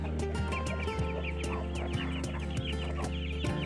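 A mother hen clucking urgently while defending her chicks from a dog, with repeated loud, close clucks and agitated calls over constant background noise.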